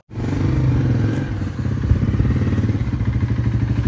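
A motorcycle engine runs close by, a loud steady idle with a rapid rhythmic chug and mechanical clatter that barely varies.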